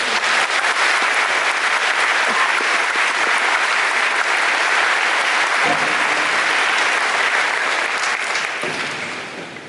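Loud, sustained applause from a school assembly audience at Germantown High School, a dense wash of clapping that holds steady for nearly ten seconds before tapering off at the end.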